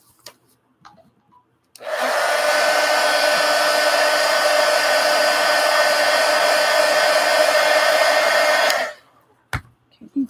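A hair dryer runs steadily for about seven seconds, drying a mixed media art disc; its loud, even blowing roar starts abruptly and cuts off cleanly, with quiet room sounds before and after.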